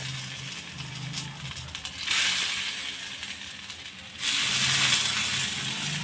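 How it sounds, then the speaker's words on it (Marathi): Fresh moong beans are tipped into a pan of roasted green chillies and sizzle and hiss. The frying swells into louder bursts twice as more beans hit the hot pan, with no talking. "मिरच्या भाजल्या आहेत त्यामध्येच हे ओले मूग टाकायचे आहेत"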